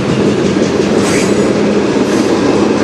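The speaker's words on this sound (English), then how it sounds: "Especially with the breeze of the train going by." A CN manifest freight train hauled by CN 2928 and CN 3834 locomotives passes close by in Sarnia, a loud, continuous rumble and rush of rolling cars with no voices.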